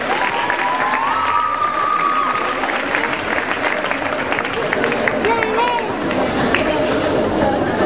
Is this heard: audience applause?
yes